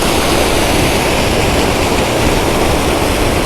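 Water gushes steadily from a single Yellampalli project pipe into Maisamma pond, a dense, continuous roar of strong flow filling the whole stretch at close range.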